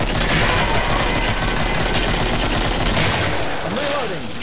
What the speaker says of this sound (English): I'm just shooting wildly.